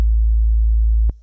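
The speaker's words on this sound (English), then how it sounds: "that's how you add a little bit of distortion to the sub bass of your dubstep tune." A sub bass tone from Ableton's Operator synth, lightly distorted by the Saturator effect, holds as one steady, loud low note for about a second and then cuts off abruptly.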